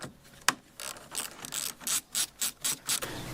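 Ratchet wrench undoing two small bolts on a Hyundai fuse box, a rhythmic series of quick clicking strokes that get steadier toward the end, close and fairly quiet.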